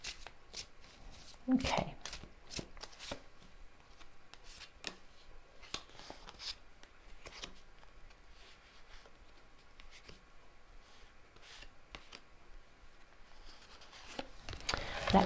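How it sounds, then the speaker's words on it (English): Tarot cards being shuffled by hand, close and soft, in repeated riffling bursts and slides spread over a quiet room, with a brief word spoken once. "Let's draw your tarot cards."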